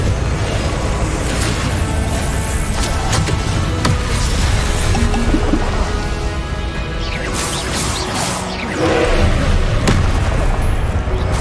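Repeated Confringo fire-blast spells in Hogwarts Legacy erupt as heavy booms and crunching impacts, layered over a thick, continuous roar of battle effects that stays loud throughout.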